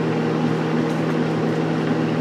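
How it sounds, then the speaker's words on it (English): A kitchen extractor fan hums with a steady, constant drone and airy rush while mac and cheese is cooked at home, filling the whole stretch with no voice over it. "I got the fan on."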